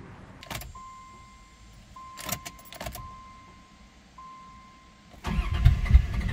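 A 1990 Dodge Grand Caravan LE that is low on fuel: several short bursts of a whining electric hum, a few sharp knocks, then the engine catches and runs with a loud, steady rumble up close.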